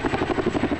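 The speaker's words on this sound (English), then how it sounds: "That was one of the first ever water drops from a CH-47 Chinook helicopter" A CH-47 Chinook helicopter, used for firefighting water drops, gives a steady rapid rotor thump with a continuous engine drone, heard briefly and fairly loud.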